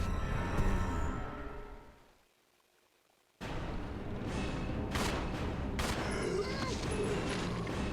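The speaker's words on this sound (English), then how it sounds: "Shoot down the zombie that's in my way and then get out of here." Gunfire in the video game Resident Evil 0 (2016 Remaster) cracks out as a zombie is shot down: loud bursts of shots, a short silent gap, then more sharp shots over dense game noise.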